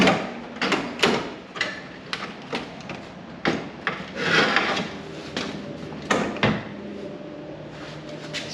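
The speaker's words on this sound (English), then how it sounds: "So here we go. Seat coming out." Wooden creaks, rubs and dull knocks sound up close as a seat is unbolted and pulled out of a 1967 Firebird interior, irregular scraping and thumps with brief pauses.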